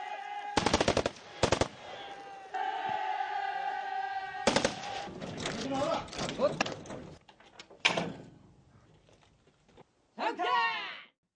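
Bursts of gunfire from an army exercise: rapid machine-gun volleys and single shots in clusters, loud and close, with mechanical clanks and a rising whine near the end.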